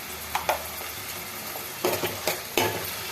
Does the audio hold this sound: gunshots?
no